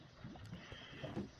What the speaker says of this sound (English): I've got diamond horse armor for Charlie